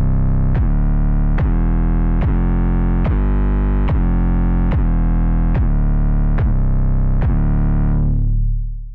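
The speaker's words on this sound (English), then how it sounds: "a simple sort of bass sort of loop that I've created with Sublab" A simple synthesized bass loop made with the Sublab plugin pulses in deep, heavy, evenly spaced notes about once per second, loud and upfront, repeating steadily before fading out near the end with no voices.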